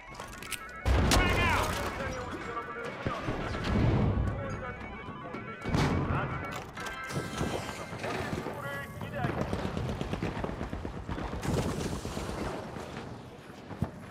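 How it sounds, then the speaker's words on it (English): A frag grenade bursts amid rapid gunfire in the arena shooter The Finals, with loud blasts and crashes over a busy, wind-roughened battle din while a commentator keeps talking. "Tossing a frag!"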